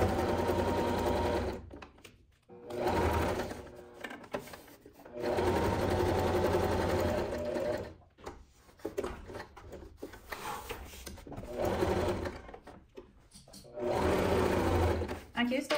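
A sewing machine stitches a two-tone nylon bag in several bursts of rapid, buzzing whirring, pausing between runs while the needle is lowered for curves; the stitching is close and fairly loud.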